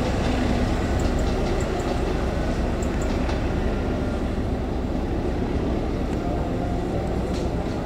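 The Argo Wilis passenger train rumbles past steadily with a continuous roar of wheels and rail noise, loud and close throughout, with faint squeals on top.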